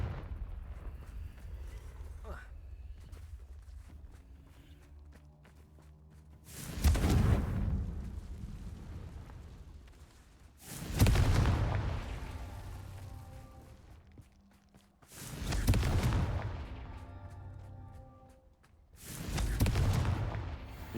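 Confringo blasting curse explosions in the Hogwarts Legacy video game, four heavy booming blasts spaced a few seconds apart, each loud and decaying with a rumbling tail over quieter ambient game sound.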